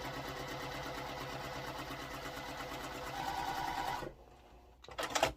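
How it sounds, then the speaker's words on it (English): A sewing machine stitches the sides onto a Cheyenne sampler quilt block in a steady, fast mechanical whir that runs for about four seconds, then stops, followed by brief fabric handling. "So we'll sew the sides on first."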